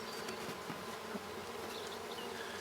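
Mountain Grey Caucasian honeybees buzz steadily at an open hive during an inspection, a dense, continuous droning hum close by with no talk.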